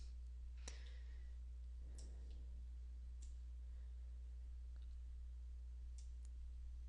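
A computer mouse clicks a few times, sharp isolated ticks spaced irregularly over a low steady hum, faint and close, with no talking.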